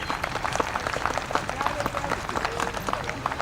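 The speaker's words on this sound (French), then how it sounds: "je crois qu'on a le droit de les applaudir." A crowd at the outdoor inauguration of a nature reserve applauds welcomed guests, with steady dense clapping, fairly close and even throughout, and a few voices mixed in.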